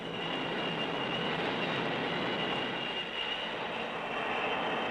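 Jet aircraft engines on an aircraft carrier deck after a launch-and-recovery cycle roar steadily, a broad continuous rumble with a sustained high whine, constant loudness and no speech, from 1960 naval operations.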